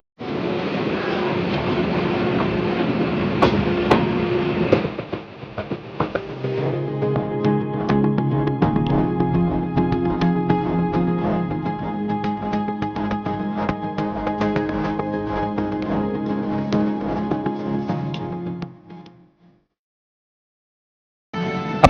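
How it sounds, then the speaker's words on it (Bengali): A train pulls fast into Kashiani Junction in Bangladesh with a loud, steady rolling rumble that gives way to a sustained tonal drone before fading out near the end. "এই ট্রেন খুব দ্রুত গতিতে এসে এখন পৌঁছালো কাশিয়ানী জাংশন"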